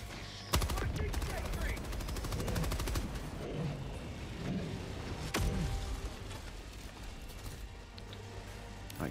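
Rapid automatic gunfire from the video game Helldivers 2, dense rattling bursts with sharp single shots, loud and continuous throughout, with players talking faintly underneath.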